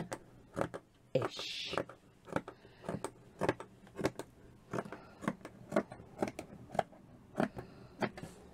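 Scissors cutting material for a cotton wool box, giving a steady series of crisp snips at a regular pace, close by and fairly quiet, with no voices.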